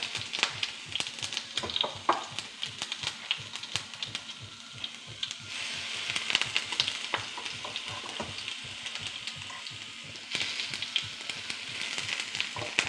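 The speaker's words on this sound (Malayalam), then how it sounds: "കടുക് നന്നായിട്ട് പൊട്ടുന്നുണ്ട്." Mustard seeds splutter in hot oil in a pan, a close, continuous crackle of rapid pops and sizzling that runs throughout at a steady level.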